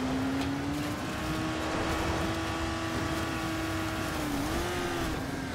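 Continuous car engine drone from a flame-spitting car driven around a mountain in the video game Dying Light: The Following, steady hum with slight pitch shifts, fairly loud and unbroken, no talk.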